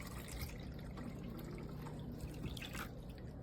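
Water being poured into the reservoir of a Keurig K-Mini single-serve coffee maker, a steady close-up trickling and dripping that runs continuously and fairly quietly throughout.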